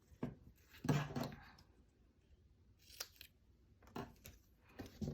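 Scissors snip through paper near a tag punch project in a few short crisp cuts, close and quiet, with soft handling rustles between them.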